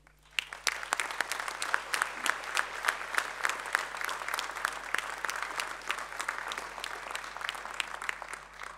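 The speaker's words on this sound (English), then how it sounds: "a round of applause for the families and friends" A university graduation audience claps for families and friends, the applause swelling quickly into sharp, crisp individual claps in a hall, with a low steady hum beneath and a gentle fade near the end.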